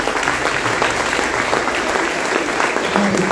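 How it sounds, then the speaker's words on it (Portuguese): A church congregation applauds together, a dense, steady wash of many hands clapping at close range that keeps an even loudness for the whole stretch. "Vamos aplaudir ao Senhor."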